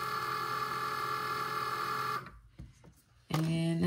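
A Cricut cutting machine runs, drawing electrical tape through on its rollers: a steady mechanical whir with a tonal hum for about two seconds, a quieter gap with small clicks, then a loud motor burst at the end.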